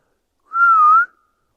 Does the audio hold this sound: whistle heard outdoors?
yes